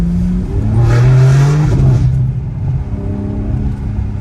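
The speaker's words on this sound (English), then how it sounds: "I wanted to hit the exhaust, that's all. I mean, it sounds good when you get on it." A sports car engine revs hard nearby, its exhaust rising in a loud roar, then easing off to a lower rumble.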